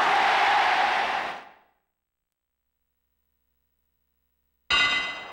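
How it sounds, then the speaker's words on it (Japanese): A ringside bell opens a professional wrestling match between André the Giant and Abdullah the Butcher, ringing loud and metallic for over a second and fading into silence, then a second sharp clang bursts in near the end. "さあ運命の鐘が鳴った。"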